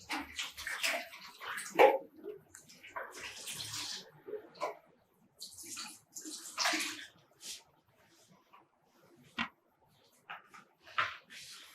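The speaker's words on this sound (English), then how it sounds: "the next thing is to wash the carrots" Scraped carrots are rinsed under running water, with intermittent splashing and gushing bursts of varying loudness and short quiet gaps between them.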